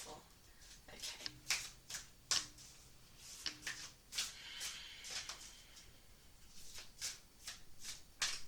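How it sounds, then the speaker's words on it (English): A deck of oracle cards being shuffled by hand, repeated soft riffling bursts and taps in an uneven rhythm, close and quiet, with someone speaking softly in between. "each time you use them, just give them a nice shuffle"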